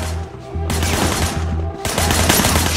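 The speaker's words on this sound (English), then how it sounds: "Shooting at the guys over there." Gunfire in the Sleeping Dogs video game, rapid bursts of shots from a shooter firing out of a car's passenger window, loud and dense over a low steady hum, with two sustained volleys.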